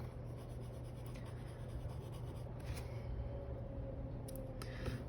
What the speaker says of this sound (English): I'm gonna start with a red, and I'm gonna just begin by coloring the whole thing in